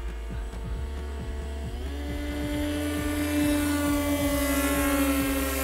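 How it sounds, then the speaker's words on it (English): Three RC model planes fly past with buzzing electric motors, their overlapping whines rising in pitch as they approach, over a steady rhythmic mechanical pulsing at an outdoor airfield. "Hear the three planes pass"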